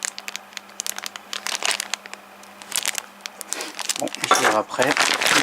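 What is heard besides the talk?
unwrapping packaging of a Facom pneumatic angle grinder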